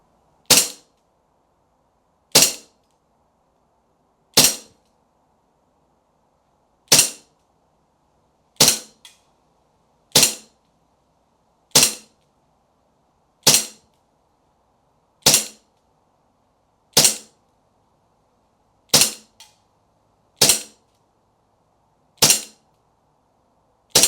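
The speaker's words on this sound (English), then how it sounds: "I'm just going to shoot this out the window and try to get it in frame so you guys can see the blowback action." Springfield Armory 1911 MilSpec .177 BB airgun pistol fired out a window with blowback, fourteen sharp cracks spaced roughly two seconds apart, loud and close, with no talking.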